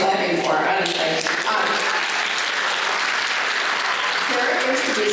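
Loud, sustained applause fills a high school concert awards ceremony, many hands clapping steadily at close range, with faint voices and cheers mixed in.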